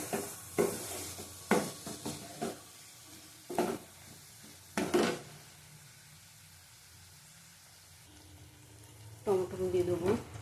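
Masala is stir-fried in a pan with a soft sizzle under intermittent bursts of scraping and stirring, plus a few clanks. A quiet voice sounds briefly near the end.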